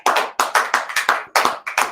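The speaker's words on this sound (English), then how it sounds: "Amandeep, I want to give you and all the previous speakers a round of applause." Applause from an audience at a summit after speakers finish, a burst of hand claps arriving in quick uneven waves of roughly a dozen loud, close claps, with no talking over them.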